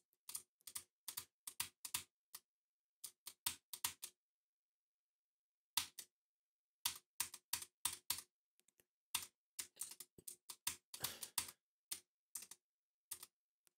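Rapid clusters of computer keyboard keystrokes are typed in short bursts separated by pauses, crisp and close against a quiet background.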